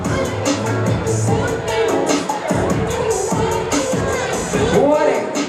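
A lively crowd at an HBCU event cheers, shouts and makes noise in a loud, continuous roar with excited voices rising and falling throughout.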